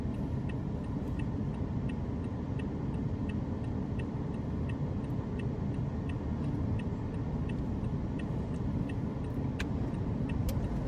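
A car drives along a driving-test route in Sachkhere, a low steady engine and road rumble from inside the cabin with a regular ticking, likely the turn indicator, running throughout.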